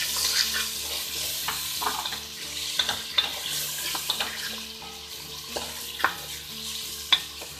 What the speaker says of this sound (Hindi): अब उसे हम शामिल करेंगे, थोड़ा सा भूनेंगे।